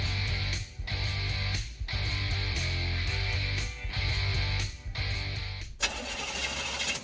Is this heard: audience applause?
no